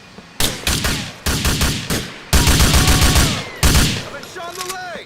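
Video game gunfire erupts in loud close bursts of rapid automatic shots, four or five volleys separated by brief gaps, with ringing tails fading at the end.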